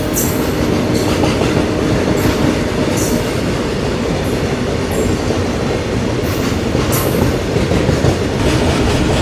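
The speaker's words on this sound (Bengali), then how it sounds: "আমাদের সাথে এখন মালগাড়ির রেস হচ্ছে, কে আগে যায় দেখি।" An express train rumbles loudly at speed while running alongside a freight train, with steady clattering wheels and a dense, continuous roar throughout, no voices.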